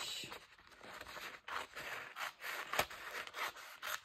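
A craft knife cuts through paper over a cutting mat, giving a series of short, close scraping and slicing strokes in an irregular rhythm, fairly quiet with no talk.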